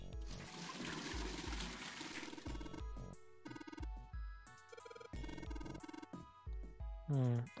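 Water pouring and trickling into a bucket in the puzzle game 999: Nine Hours, Nine Persons, Nine Doors, a liquid rush that gives way to chiming, beeping game music.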